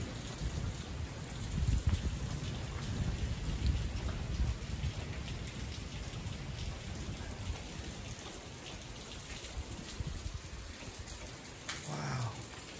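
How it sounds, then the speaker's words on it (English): Heavy rain pours steadily in the mountains at Skyforest near Big Bear, a dense, even hiss of drops on surfaces, close and constant, with a faint low rumble early on and no voices. "So you can see the heavy rain right there."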